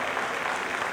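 An audience at a fashion show claps in a brief, dense, steady burst of applause, with no talk.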